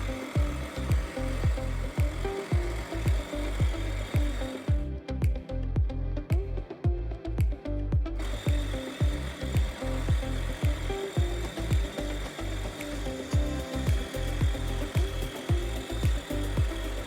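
A wood lathe turns a wooden bishop chess piece while a tool cuts it, giving rapid, rhythmic scraping and ticking bursts over a steady hum, close and loud, with a brief quieter gap midway.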